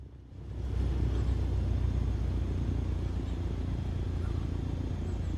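Simulated airplane in a flight simulator game braking and rolling to a stop on a runway, heard as a steady low engine rumble and road-like roar that holds loud and constant throughout.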